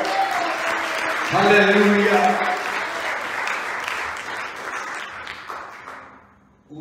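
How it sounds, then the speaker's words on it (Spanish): A church congregation claps loudly in sustained applause that gradually dies away over several seconds. A voice calls out over the clapping. "Denle un aplauso al Señor."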